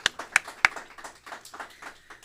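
Scattered applause for a speaker at a lecture series, opening with a few sharp, close individual claps and tapering into light, sparse clapping from a small audience.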